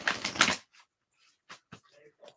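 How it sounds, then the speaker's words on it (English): A deck of cards is shuffled in a quick, dense riffle lasting about half a second, followed by a few faint, scattered clicks and taps as the cards settle. "Shuffling the cards."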